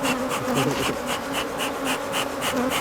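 Agitated feral honey bees in flight around an open hive, a steady, dense buzzing swarm close by with a pulsing rhythm, loud and continuous with no talking.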